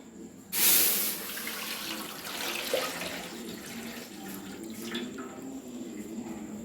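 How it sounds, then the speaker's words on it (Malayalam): Second coconut milk poured into a pot of mashed jackfruit seed payasam gives a steady liquid splash and trickle, with a louder burst at the start and then a continuous, moderately near pour without talk. "2-ാം പാല് ഒഴിക്കാം"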